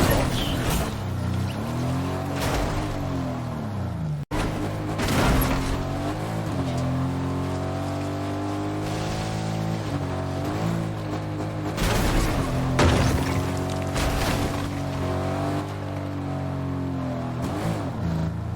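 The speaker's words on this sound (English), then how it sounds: "Going 80 miles an hour in his car, the default makes quick work of the bots." A car in the video game Fortnite races at about 80 mph, its steady engine drone rising and falling through shifts, with bursts of gunfire and tire noise layered over the continuous loud roar.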